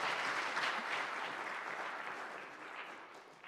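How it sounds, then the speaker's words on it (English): Audience applause at a Christmastide church gathering, a steady wash of many hands clapping that gradually fades toward the end, with no voices over it. "One more round of applause for Brandon."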